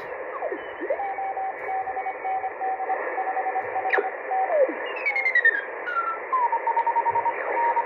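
Yaesu FT-7B shortwave receiver hiss through an external speaker, with Morse-like beeping tones and sweeping whistles as the dial is tuned across the 28 MHz telegraphy band, no voices.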